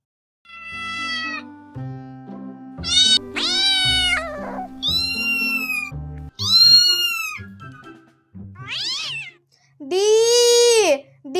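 Several distinct cat meows, alone and close, in a varied series, each a rising-falling wail, some long and drawn out, with short pauses between calls and a soft melodic background underneath.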